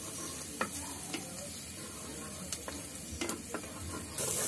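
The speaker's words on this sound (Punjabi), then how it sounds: "ਸਭ ਤੋਂ ਪਹਿਲਾਂ ਲਸਣ ਪਾ ਕੇ ਤੇ ਨਾਲ ਹੀ ਆਪਾਂ ਅਦਰਕ ਪਾ ਲੈਣਾ ਆ, ਤੇ ਇਹਨਾਂ ਦੋਨਾਂ ਨੂੰ ਆਪਾਂ ਭੁੰਨ ਲੈਣਾ ਆ।" Garlic and ginger sizzling in oil while being stirred, a continuous crackling fry punctuated by sharp scraping taps of a spatula against the pan, fairly close and with no voices.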